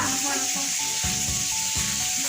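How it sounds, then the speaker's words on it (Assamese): Fish fries in a pan in a home kitchen with a steady, close sizzle, while faint tonal sounds and soft knocks run beneath it. "এইয়া বাইদেউ মাছ ভাজি আছে"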